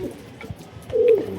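Domestic pigeons at a home loft give a soft, low coo that swells near the end, close by, among faint shuffling and pecking sounds.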